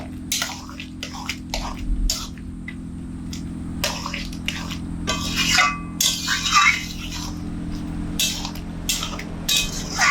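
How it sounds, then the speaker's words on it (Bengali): Ground garam masala is stirred into ghugni in a pot, with intermittent clinks and wet scrapes of a spoon against the metal over a steady low hum. "বাটা গরম মশলা এর মধ্যে দিয়ে দেবো দিয়ে একটু নেড়ে চেড়ে দিলে গরম মশলাটা পুরো ঘুগনির মধ্যে খুব ভালোভাবে মিশে যাবে"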